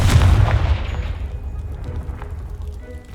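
A Confringo blasting spell goes off in a video game, one heavy booming blast up front that rumbles and fades away over the next few seconds.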